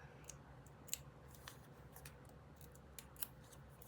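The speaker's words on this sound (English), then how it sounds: "I like the sound that the micro serrations on the scissor blades make on the sticker paper." Micro-serrated scissor blades cut through sticker paper in a few quiet, crisp snips spaced irregularly, close and delicate in a hushed room.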